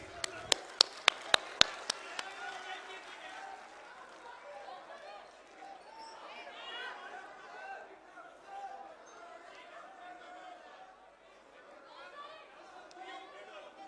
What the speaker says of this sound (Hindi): जोरदार तालियों के साथ उनका अभिनंदन